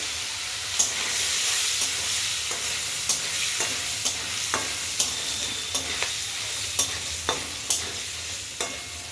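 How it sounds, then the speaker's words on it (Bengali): Paneer pieces frying in hot oil in a home kitchen, a constant close sizzle with sharp periodic clicks and scrapes of a spatula turning them, fairly loud and without talk. "এবার পনিরগুলো ভেজে নেবো"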